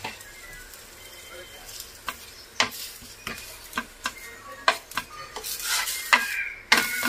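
Aloo paratha cooks with oil on a tawa, giving a quiet sizzle broken by sharp clicks and taps of a utensil against the pan, with brief speech mixed in.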